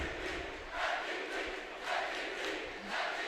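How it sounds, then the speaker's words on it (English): A high school student cheer block chants rhythmically at a boys basketball tournament game in a gym, distant rising and falling crowd shouts repeating in regular swells. "Cheer block chanting MVP."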